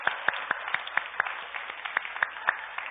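Church congregation clapping during a Christmas Eve service: faint, fairly even applause with distinct sharp claps standing out at a quick steady pace, fairly distant and quiet.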